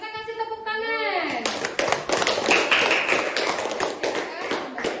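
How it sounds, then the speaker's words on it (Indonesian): A classroom claps for a student group, a burst of many hands clapping loudly for several seconds after a voice and a drawn-out rising tone at the start. "kita kasih tepuk tangan."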